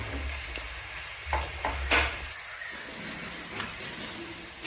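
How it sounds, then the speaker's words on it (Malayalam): Chopped tomatoes fry in a pan while being stirred for a cooker chicken dish. A soft hiss of sizzling runs under a few scraping stirs, quiet and close, with no voices. "ശരിക്കും നല്ല മിക്സ് ചെയ്യണം ഈ ടൊമാറ്റോ ശരിക്ക് വെന്ത് കിട്ടണം"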